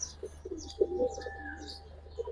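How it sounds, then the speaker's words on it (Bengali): A pair of silver pigeons gives short, soft cooing calls close by, with a few brief higher chirps scattered through, and no voices. "একটা পেয়ার লাল গিয়ারের সিলভার কবুতর ভাই একদম অরিজিনাল সিলভার কবুতর"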